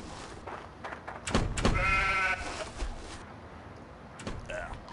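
Sheep bleating in the Stubbs the Zombie video game, a short wavering bleat rising out of game noise near the middle, with voices talking around it.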